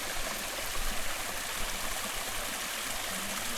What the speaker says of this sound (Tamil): ஒரு சின்ன ஸ்ட்ரீம் பாயிண்ட்டு.